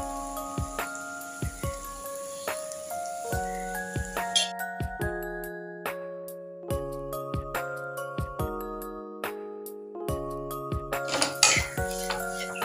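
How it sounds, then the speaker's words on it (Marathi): Semolina, peas and carrots for buttermilk upma stirred together in a pan, with repeated light spoon clinks and scrapes against the metal over steady background music. "आता रवा, मटार, गाजर हे सर्व एकत्र चांगलं मिक्स करून घेऊया।"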